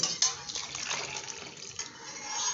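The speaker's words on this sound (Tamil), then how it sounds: "இந்த தண்ணியை ஊற்றி வச்சோம் இல்லையா வடிகட்டின தண்ணி அது இதில் சேர்த்துப்போம்" Strained water is poured into a pot of spinach kulambu, a continuous splashing, gurgling pour close by, loudest near the start and easing off over a couple of seconds.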